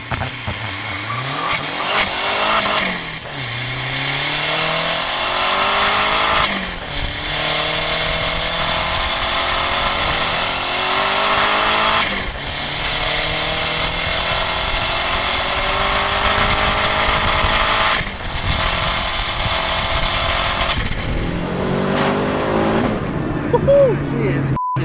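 A turbocharged Citroën Saxo VTR hatchback revs hard and launches from standstill, accelerating through several gear changes, the pitch climbing and dropping with each shift, loud and close.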